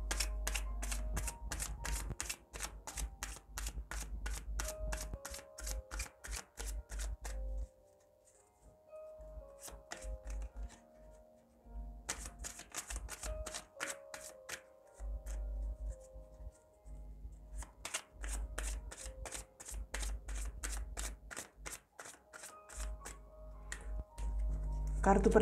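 Tarot cards being shuffled in repeated bursts of rapid, crisp flutters and snaps, close and fairly loud, broken by short quiet pauses, with no talking over it.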